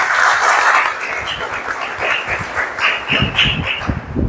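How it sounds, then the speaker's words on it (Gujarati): An audience at a college financial literacy seminar applauds, a dense, steady wash of clapping lasting several seconds, loud and without talk. "એકવાર જોરદાર તાળી કેતનભાઈ માટે પડી"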